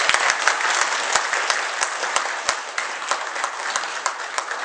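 Church congregation applauding after a choir's hymn, a dense, steady wash of many hands clapping, close and continuous throughout, with no talk over it.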